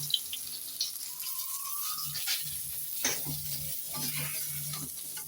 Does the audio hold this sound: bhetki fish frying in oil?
yes